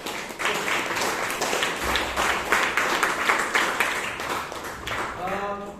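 Applause at a Toastmasters club meeting in Bangalore, a room of people clapping in a steady, moderately loud patter that runs for several seconds before fading out.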